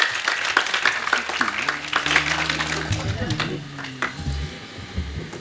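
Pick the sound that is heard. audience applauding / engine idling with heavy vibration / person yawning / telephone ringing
audience applauding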